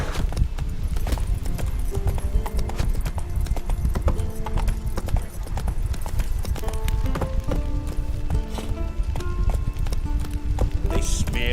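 Roach, a horse in The Witcher video game, gallops with steady, loud clip-clop hoofbeats throughout, layered over game music and occasional snorting, with a voice speaking briefly.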